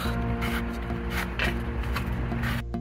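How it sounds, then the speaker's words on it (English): A steady, breathy hiss of air rushing into the cooling system of a Jaguar X-Type V6 as its radiator cap is opened, close and continuous for a few seconds, with faint shuffling. "that was the sound of air entering the system because I'd opened the cap"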